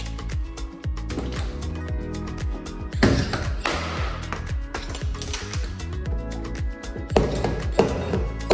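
Sharp metal taps ring out in quick succession as a tool knocks down small high spots on a car body panel during paintless dent repair, with bursts of louder knocking and faint background noise.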